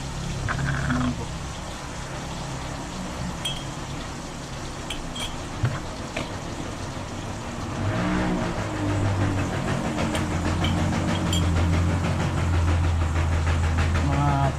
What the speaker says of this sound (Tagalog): napakaingay ng motor